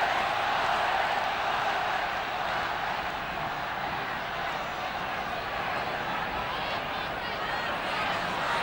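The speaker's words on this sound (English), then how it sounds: "Listen to that crowd." Large stadium crowd at the 1975 All Ireland hurling final between Kilkenny and Galway, a steady, dense roar held at even loudness throughout, with no commentary breaking through.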